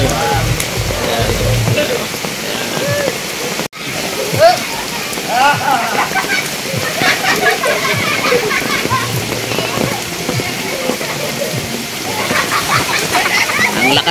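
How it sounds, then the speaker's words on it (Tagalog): Heavy rain pouring down over a swimming area, a dense hiss and patter with splashing water throughout, while people talk and children's voices come through now and then. "Ang lakas ng ulan."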